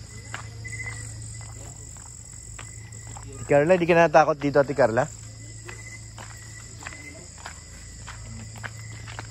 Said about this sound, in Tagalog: May kuliglig na po dito.